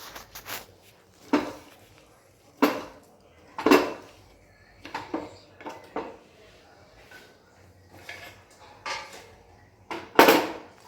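A knife slices steamed rolled Gujarati patra made with colocasia leaves on a cutting surface, producing a series of distinct, crisp taps at irregular intervals, close and fairly loud against an otherwise quiet kitchen.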